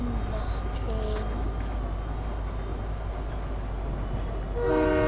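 Train in the Fortnite video game, a steady rumbling rolling drone with a horn-like tonal blast rising at the end, heard under a player's talk.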